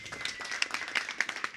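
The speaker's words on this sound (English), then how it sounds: "give an applause for David" Short burst of conference audience applause at SmartCon 2022, scattered claps crisp and moderately close, fairly faint and uneven over about two seconds.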